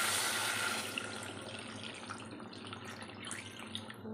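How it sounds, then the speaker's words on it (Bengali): Water poured into a cooking pot of taro and potatoes, a continuous gush that starts loud and settles into a steadier, softer trickle, with no talking. "জল দিয়ে দিলাম।"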